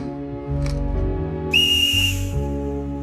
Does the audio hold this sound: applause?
no